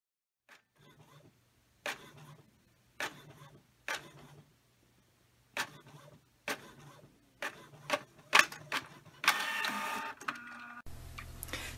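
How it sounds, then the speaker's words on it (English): A desktop inkjet-style printer prints a page for a print-and-cut craft job, quiet clicks and whirring feeds repeating in an uneven rhythm before building into a louder mechanical churn at the end. "And I will print that out."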